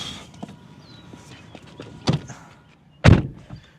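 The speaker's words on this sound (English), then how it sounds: "a little bit of a rattly thunk there on the door" A 2024 Ford Mustang GT Performance Package door shuts with a rattly thunk: a softer knock near two seconds, then a louder, close slam around three seconds, with no talking.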